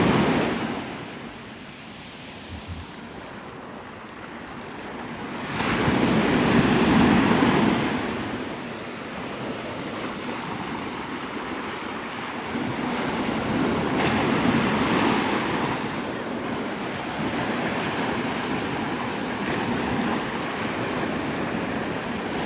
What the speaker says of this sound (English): This is Navarre Beach, Florida